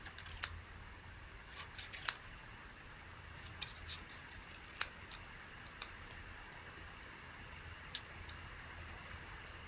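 Scissors snipping out small hoof shapes, sharp crisp clicks coming singly and in short clusters at irregular intervals over a quiet background, close and soft, with no talk.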